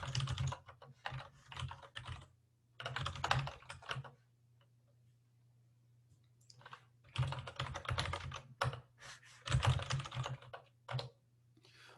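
Typing on a computer keyboard during a compiler lecture, with rapid bursts of close, clicky keystrokes separated by short pauses and a low steady hum underneath.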